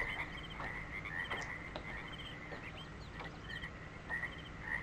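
Frogs croaking in the ambient soundscape of the video game Myst Masterpiece Edition, a steady chorus of repeated calls over a constant background hum, with faint bird chirps scattered throughout.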